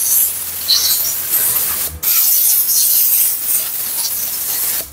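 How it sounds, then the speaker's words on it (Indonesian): Cleaner sprayed onto a motorcycle fuel-injection intake manifold during repair, a close, loud continuous hiss lasting several seconds with brief breaks between bursts. "setelah kita bersihkan lalu kita semprot"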